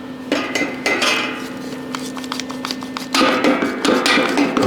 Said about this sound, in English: So let me just put a little clamp on here.